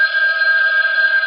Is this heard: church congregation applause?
no